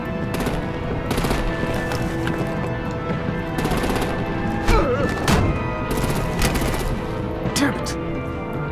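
Rapid bursts of automatic gunfire and heavy artillery blasts in the Batman: The Enemy Within video game, loud and repeated with sharp, punchy impacts over a dense battle background.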